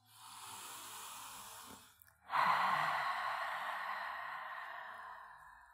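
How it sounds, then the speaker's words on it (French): Ujjayi yoga breathing through a constricted throat, a soft breathy hiss that runs steadily, breaks briefly, then resumes as a louder ocean-like rasp and slowly fades, close and alone with no talking. "on commence à contracter la gorge un petit peu pour la respiration Ujjayi."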